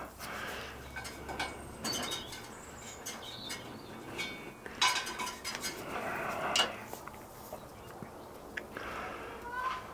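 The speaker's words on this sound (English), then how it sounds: "there's a big nut inside there so you can keep shaking it up just to keep the flux in suspension" A bottle of easy-flow silver soldering flux with a big nut inside is shaken close by, giving bursts of sharp metallic clinks and rattles with short quiet gaps between them.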